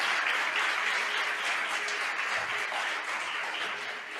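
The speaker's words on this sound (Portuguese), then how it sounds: "Você pode aplaudir o Senhor?" Steady, dense applause from a large church congregation during a Tuesday service, many hands clapping continuously at an even level throughout.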